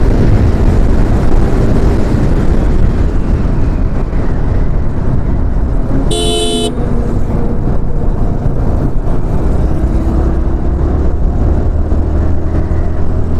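A motorbike engine drones steadily while riding, with a loud, continuous rumble and road wind throughout and a brief tonal horn-like beep midway; no one speaks.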